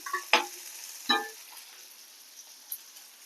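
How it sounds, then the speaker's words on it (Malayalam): Crushed garlic and a small onion fry in a pan, with two sharp bursts of sizzle and clatter as they are stirred, then a quiet, faint crackle with a light tick near the end. "ഇത് നന്നായിട്ടൊന്ന് വറുത്തെടുക്കാം."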